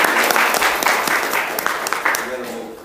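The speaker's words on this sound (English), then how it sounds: "Please give him a round of applause for me." Audience applause at a motivational speaking event, a dense wash of clapping sustained across the whole stretch with a voice speaking over it.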